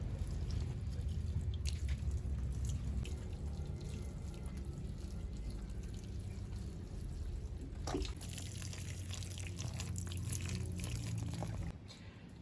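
Water pours and splashes steadily for several seconds onto Anthurium plants, a continuous rushing spray that briefly intensifies before easing off near the end.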